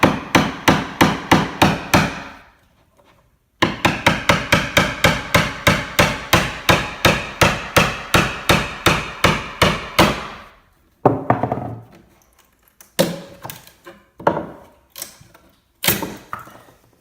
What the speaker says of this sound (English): just a couple gentle taps with the hammer